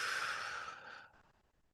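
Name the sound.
slow breath out during gratitude practice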